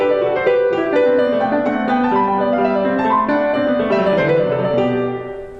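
Piano playing the Courante from Bach's French Suite No. 5 with uniform phrasing throughout, giving steady interwoven contrapuntal lines at an even moderate volume up close before fading at the end.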